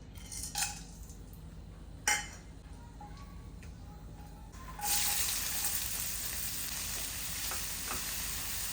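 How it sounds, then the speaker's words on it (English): Whole peppercorns, cardamom and cloves crackle in hot mustard oil in a pan, a few sharp clinks of a utensil at first, then a loud, steady sizzle that swells up and carries on close by. "Heat a pan, add a little bit of mustard oil, add some garam masala"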